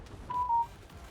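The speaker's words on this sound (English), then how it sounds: "I've forgotten how often my phone likes to go off while I'm doing these recordings" A mobile phone briefly goes off indoors, giving a single short electronic tone that stands out over a low room hum.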